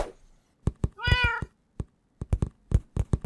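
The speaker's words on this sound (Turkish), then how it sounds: "Ya ket, ket, kedi demek ki hemen oraya kedi koymuş." A cat gives a clear, loud meow in a Minecraft animation, set among a series of sharp knocks and thunks that tap out an irregular rhythm before and after it.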